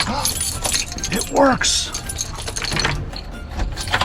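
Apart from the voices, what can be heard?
keys jangling while unlocking a door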